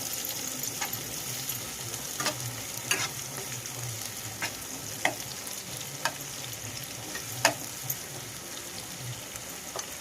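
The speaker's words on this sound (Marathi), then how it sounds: "कांदा टाकला आणि ते आपण आता परतून घेतो आहे" Onion sautéing in a pan for a Konkani-style fish recipe, a continuous close sizzle with several sharp scrapes and clacks of a spoon stirring against the pan at irregular intervals.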